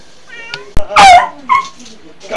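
A pet cat meows in a short, high, wavering cry among excited household sounds, with a sharp thump and other brief noises around it, close and fairly loud.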